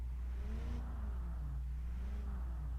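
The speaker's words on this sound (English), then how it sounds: "That sounds like an old school V8 almost. How it just revs up" A 1950s luxury car's V8 engine in the game Automation revs up and down in smooth rising and falling sweeps, steady and loud throughout with a low constant rumble underneath.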